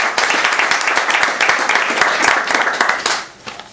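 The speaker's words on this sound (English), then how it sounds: "You can clap hands." An audience at a 2016 school English competition claps their hands, a loud, dense burst of many individual claps sustained for several seconds before tapering off at the end.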